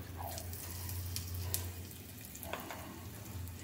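Cardamom, cloves and asafoetida frying in oil in a pan while being stirred: a faint, steady sizzle with a couple of soft utensil scrapes.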